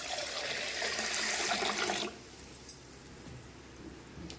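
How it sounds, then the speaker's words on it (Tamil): Water pours into a pressure cooker holding black urad dal, a close splashing gush for about two seconds that stops abruptly, followed by faint kitchen clatter. "இப்போ இதில் ஒரு 5 டம்ளர் தண்ணி ஊற்றிக்கலாம்."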